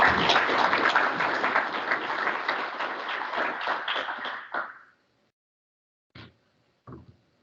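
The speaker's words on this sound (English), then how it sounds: "Just give him a hand of applause again" Audience applause at a tech conference, a dense burst of clapping that fades out after about five seconds, followed by a couple of isolated taps.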